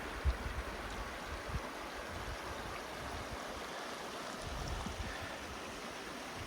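The Conejos River runs under an old bridge in the South San Juan Wilderness, giving a steady, soft rushing wash of water, fairly faint and unbroken, with no voices.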